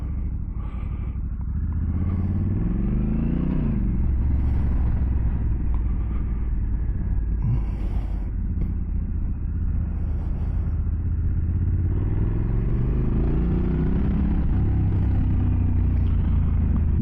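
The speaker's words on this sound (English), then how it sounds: "Nice sound to that pipe." A 2023 Honda Africa Twin CRF1100L DCT Adventure Sports fitted with an MSC project exhaust pipe runs nearby, a loud, deep, steady engine rumble with a few revs rising and falling, alone without talk.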